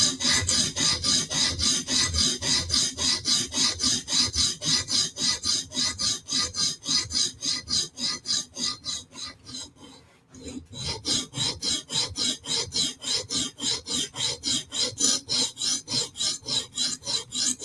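A blade is sharpened with quick, regular forward and backward strokes, each one a close rasping scrape, running steadily with one brief pause midway and no talk.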